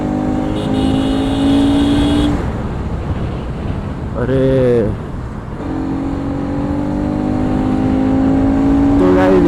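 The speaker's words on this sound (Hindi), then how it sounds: "मेरी बाइक की आवाज़ सुनाई दे रही हो तो भाई कोई सुपर बाइक से कम नहीं है मेरी बाइक की साउंड" Bajaj Pulsar RS 200 motorcycle engine running steadily while riding, a loud continuous drone with wind rush, pitch easing and rising as the rider shifts, and a brief exclamation from the rider partway through.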